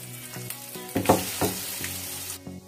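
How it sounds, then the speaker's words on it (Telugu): Ground radish chutney hits tempering oil with asafoetida and curry leaves, giving a loud sizzling burst around the middle with a few stirring knocks, then settling to a softer crackle before cutting out. "దీనిలో మనం గ్రైండ్ చేసుకున్న ఈ పచ్చడిని కూడా వేసేసుకోవాలి"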